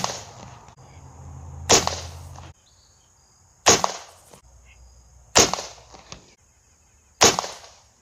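A Crosman Vapormax air rifle fires four sharp, evenly spaced cracks about two seconds apart, each followed by a brief ring and quiet gaps, close and loud with no talk.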